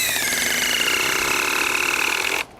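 Hikoki hydraulic impact driver sinking a 4-inch batten screw, a continuous close buzzing whir with a rapid rattling pulse that stops abruptly near the end.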